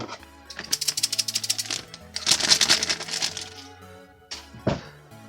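Scissors snipping plastic parts from the sprue of a DeAgostini Lamborghini Countach LP500 S model kit, a close run of rapid crisp clicks followed by a second rattling burst and a couple of sharp snaps.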